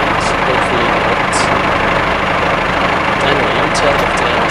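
An idling diesel engine of a BR Class 143 Pacer railbus in Train Simulator 2017, a steady continuous low rumble with no clear changes, sounding throughout and partly masked by broadband noise.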